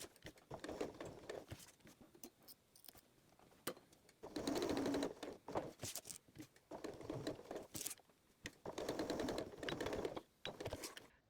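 A sewing machine stitching a fabric tab onto a KitchenAid cord keeper, rattling in repeated close, fairly quiet runs broken by brief pauses.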